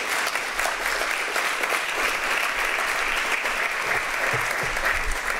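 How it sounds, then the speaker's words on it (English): An audience claps steadily at a conference event, a dense sustained applause that stays even in loudness throughout. "And if we could just give them a little round of applause."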